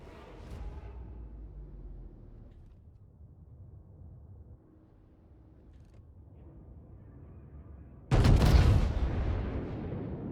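Naval gunfire from the Yoshino in a warship video game, aimed at an enemy Vanguard: a low rumbling backdrop, then one sudden loud blast near the end that rolls on as a heavy roar.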